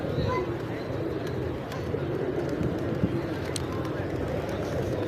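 Pigeons coo in a pigeon park in Malé, Maldives, low repeated throaty calls over a constant bustle of birds and outdoor noise, with people talking in the background.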